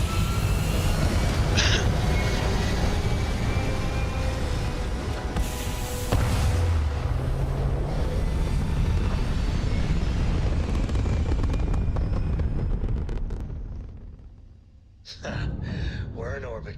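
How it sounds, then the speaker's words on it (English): Spaceship liftoff in the video game Starfield: a loud, sustained roaring rumble with booming swells that rises and then cuts out abruptly near the end before a brief resurgence. "Prepare for liftoff."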